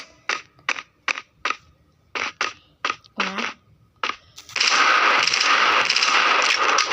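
Gunfire in the Johnny Trigger mobile game, with about a dozen sharp, separate synthetic shots in an uneven rhythm followed by a loud, dense burst of noisy blasts that lasts to the end.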